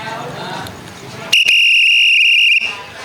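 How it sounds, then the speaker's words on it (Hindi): A garbage collector in Delhi blows a shrill steady whistle from his cart to call residents, one long piercing blast of about a second and a half after a short chirp, cutting over background street noise. "तो मैंने ये सीटी शुरू करी।"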